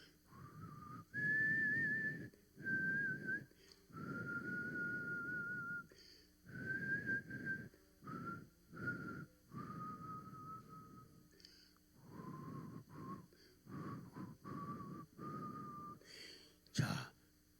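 A church congregation whistles together in a Korean worship service, producing wavering sustained tones in short phrases separated by pauses, fairly soft and slightly breathy.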